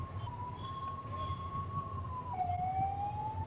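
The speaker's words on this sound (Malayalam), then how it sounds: "ഫയർ എഞ്ചിൻ വന്നിട്ടുണ്ട്." A fire engine's siren wails at a fire scene beside a crowded event with no parking, one steady fairly distant tone that drops in pitch partway through, over low traffic rumble.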